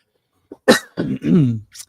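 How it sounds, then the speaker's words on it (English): A few sharp, close coughs in quick succession, a short hacking burst with a small catch at the end. "Are you coughing over there?"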